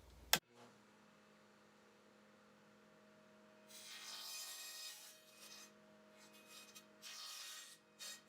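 A wooden board is pushed freehand through a saw while building a double screen board. Two rough, rasping cutting bursts rise over a quiet mains hum, one in the middle and a shorter one near the end.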